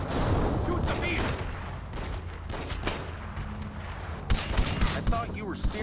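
Gunfire in Far Cry 4 aimed at a beast, loud bursts of shots over a rumbling vehicle-like background, with a heavier volley of sharp cracks near the end.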